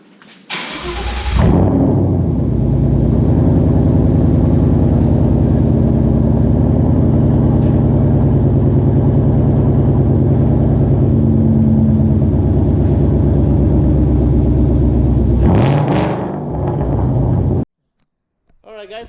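A 5.0-liter V8 engine with Flowmaster FlowFX axle-back exhausts cranks and fires up, then settles into a loud, deep, rumbling idle through a throaty exhaust before shutting off.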